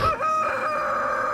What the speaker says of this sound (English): I hear a rooster.